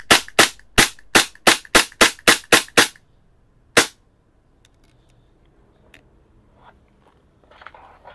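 A WE G33 Advance gas blowback airsoft pistol fires ten sharp, loud shots in a fast, even string, then one more after a pause, with faint handling noises afterward.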